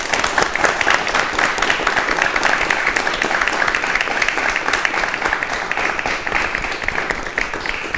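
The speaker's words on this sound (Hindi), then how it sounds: "इसकी शुरुआत हम करेंगे एक जोरदार तालियों के साथ।" Loud, continuous applause from a studio audience of young people on a television career show, a thick wash of many hands clapping at steady intensity for the full length, with no talking over it.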